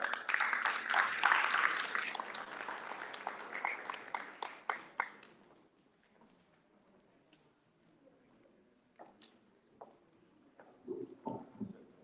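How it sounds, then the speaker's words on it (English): Applause from an audience at a Shivaji Maharaj Jayanti cultural celebration in the USA fills the first five seconds, then thins to scattered claps and quiet room noise. "Let's have a huge round of applause for them."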